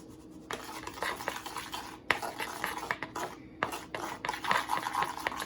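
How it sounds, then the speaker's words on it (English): Honey butter glaze for chicken thighs mixed in a bowl with a utensil other than a spoon: quiet, close scraping and clinking against the dish in uneven bursts, with brief pauses and a few sharper taps. "Let's get it nice and mixed."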